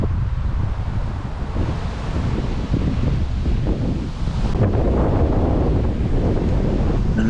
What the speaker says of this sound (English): it got so windy I had to chuck the lead